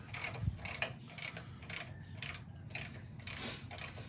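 A ratchet tightens a bolt on a motorcycle frame slider fitted to a Honda CBR600F4, making repeated close clicking strokes in a fairly regular back-and-forth rhythm, moderately quiet, with no voices.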